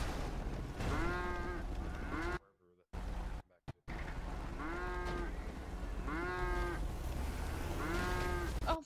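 Cows moo repeatedly on a farm in GTA roleplay, several loud, drawn-out lows close by in a steady series, with brief dropouts in between and voices talking over them.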